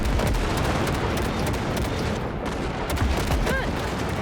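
Rapid gunfire in Cyberpunk 2077 as wrecks are blasted, dense bursts of shots and impacts running continuously and loud throughout.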